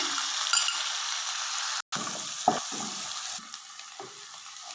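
Ginger paste frying in a pan for urad dal, a broad steady sizzle throughout with a brief cut near two seconds and a few soft stirring knocks, no talking.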